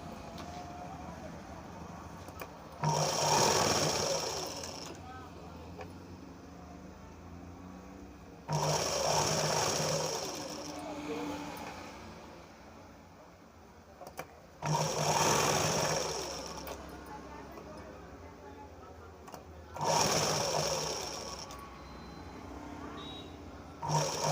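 Sewing machine stitching the neckline of a boat neck blouse, running in four separate bursts of several seconds each with quiet pauses between, close and fairly loud.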